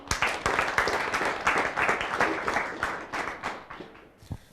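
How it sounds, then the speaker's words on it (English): An audience at a parenting talk show claps for a speaker, a lively burst of applause that gradually thins out and fades near the end. "Let's clap for Mary."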